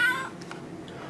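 A short meow from the Kickstarter exclusive Exploding Kittens card game box, a single faint electronic cat cry sounding once and fading quickly.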